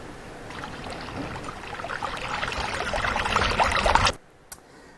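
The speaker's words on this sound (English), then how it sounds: "as we start to transition into the bigger river, it should get louder as we go" River water rushes steadily as the flow moves into a bigger river, growing gradually louder over several seconds before cutting off abruptly near the end.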